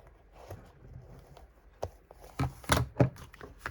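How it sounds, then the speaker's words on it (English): Scissors cut through layered paper during a trifold craft project, giving a few faint, quiet snips early and then a cluster of louder, sharper crisp cuts near the end. "So then I'm going to do it with scissors."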